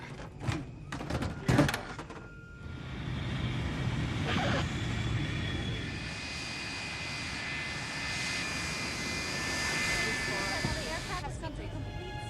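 A passenger airplane landing in a film scene, its engine roar building into a steady, loud drone over several seconds after a few sharp thumps, with voices talking briefly at the start.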